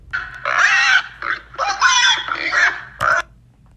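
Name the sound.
pig squealing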